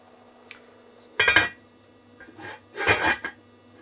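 A cooking pot is covered with its metal lid: a faint tap, then two clattering metallic clinks about a second and a half apart, with quiet kitchen room tone between.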